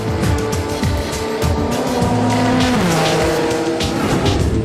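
Race cars lap a dry track during Le Mans qualifying, engines roaring loud and close with rising and falling pitch through gear changes, along with tire squeal as the cars corner hard.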